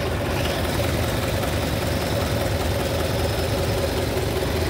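A 1931 Lincoln K V8 engine idles evenly and quietly at close range, a smooth continuous low rumble with no voices over it.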